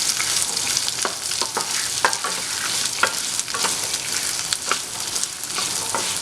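Dried red chillies and shallots sauté in a pan for a hotel-style spicy chutney, a steady close sizzle with repeated stirring scrapes and clinks throughout.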